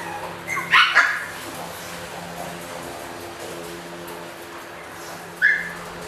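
Dogs at a breeding kennel bark in two brief bursts, a quick cluster of yelps near the start and a single short bark near the end, over a steady low background hum.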